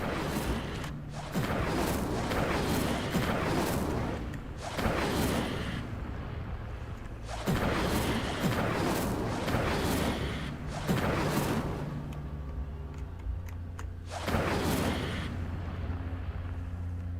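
Repeated Incendio fire spell blasts in Hogwarts Legacy, a series of roaring whooshing bursts each lasting one to three seconds, separated by brief gaps and low background rumble, loud and close.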